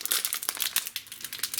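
A crinkly plastic biscuit packet is handled and pulled open up close, giving a quick flurry of sharp crackles and rustles that last under two seconds.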